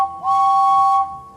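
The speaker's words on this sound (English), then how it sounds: "But then he was rudely interrupted by another whistle." A steam locomotive whistle gives one loud, steady blast lasting about a second, then fades into a softer lingering tone.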